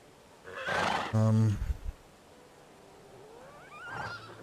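A horse in the medieval farming game Medieval Dynasty gives a loud, brief whinny near the start, then a fainter, wavering call follows a few seconds later.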